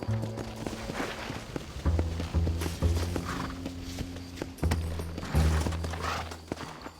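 Horse hooves clip-clopping in steady gallop bursts while riding in the Western video game Red Dead Redemption, repeated in several runs under game music.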